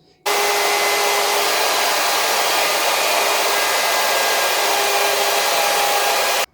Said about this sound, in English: the next step will be routing the edges of the piece